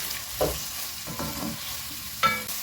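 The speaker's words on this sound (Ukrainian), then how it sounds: "При смажці дуже гарно розкриваються спеції і продовжую смажити" Spices fry in oil, sizzling steadily in a pan with a few scraping stirs, a constant hiss underneath; no voices.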